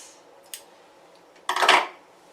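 Scissors snip through fabric while cutting out a pair of sewn walking shorts, a faint single snip followed by a louder, longer crunchy cut, near and alone.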